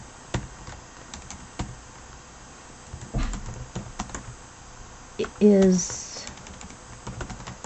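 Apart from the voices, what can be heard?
typing a note on a computer keyboard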